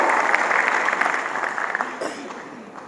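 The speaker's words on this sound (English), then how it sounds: "So let's give all of ourselves a big round of applause" A team claps together at a company event, a steady, dense patter of many hands that holds for about three seconds and then begins to thin.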